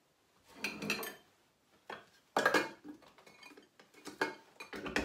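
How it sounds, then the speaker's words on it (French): Knife chopping onions on a board for a black pepper sauce, a few separate bursts of cutting strokes and clatter, close and fairly quiet, with short pauses between them. "and then cut the onions and then add"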